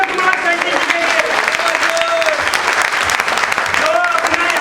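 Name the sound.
applause from an audience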